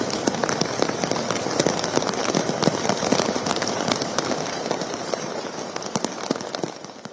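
Steady, dense downpour of heavy monsoon rain in Mumbai, continuous and fairly close, with scattered sharper drops throughout and no talking.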